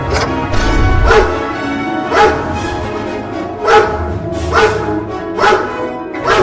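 Cartoon dogs bark in about five loud, separate bursts spaced a second or so apart, with a low rumbling bed underneath and no talking.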